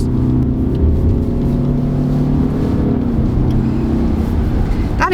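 A 2019 Subaru Outback estate on a road test gives a loud, steady engine drone and road roar from inside the cabin as it pulls away, ending with a brief rising whine.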